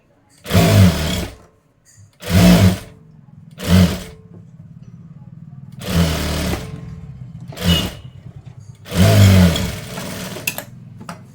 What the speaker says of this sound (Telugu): ఇక్కడ పైన ఫోల్డింగ్ చేసుకొని కుట్ట అనేది వేసేసేయండి